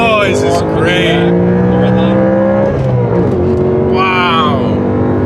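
BMW M3 engine revving hard from the driver's seat, rising and falling harmonic sweeps as it climbs through the revs, loud and close, with a voice briefly audible over it.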